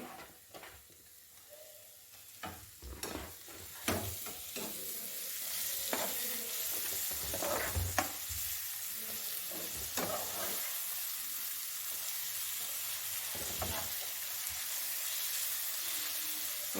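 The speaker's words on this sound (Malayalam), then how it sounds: "ഇത് രണ്ടും കൂടെ നല്ലോണം വഴന്ന് കയറി വരട്ടെ" Onion and tomato sauté in a pan for mutton curry, a steady close sizzle broken by repeated scraping and stirring clatters from a utensil.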